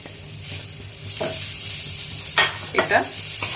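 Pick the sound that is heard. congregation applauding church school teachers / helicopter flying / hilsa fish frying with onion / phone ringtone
hilsa fish frying with onion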